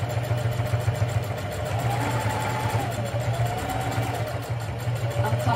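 Sewing machine stitching bag handles in a straight seam, a steady mechanical hum with a rapid even needle rhythm running continuously.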